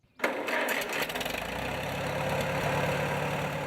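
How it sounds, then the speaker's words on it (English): A 1944 McCormick W6 tractor engine starts abruptly and settles into a loud, steady idle with a rapid mechanical chugging and rattle, close by and alone. "Would you like to hear it run?"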